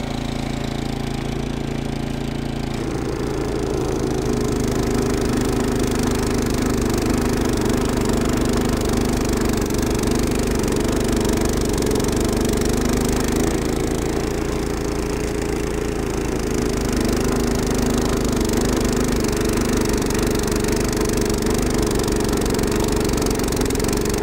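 Evoline Standard series two-stage snow blower, tracked 660 model, with its engine running steadily and loudly throughout, a constant mid-pitched drone with a slight shift in load partway, no talk.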